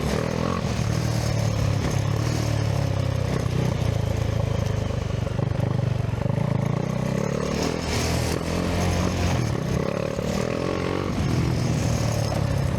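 A 2025 KTM 390 Adventure motorcycle ridden off-road, its engine droning loud and steady throughout with continuous clatter and mild revving, no one speaking.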